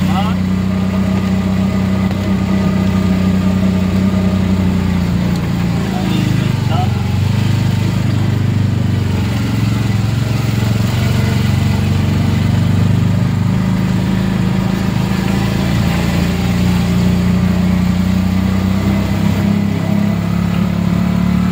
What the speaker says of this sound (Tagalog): Dito kami sa loob ng tricycle.